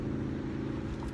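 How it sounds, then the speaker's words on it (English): Road traffic on Lombardi Avenue during a tailgate, a continuous low engine hum and rumble of passing vehicles, steady and moderately close, with no talk over it. "might be hearing some cars and some motorcycles going by on Lombardi Avenue"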